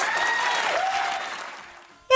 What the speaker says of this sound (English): Yeah, of course Michelle Obama gets applause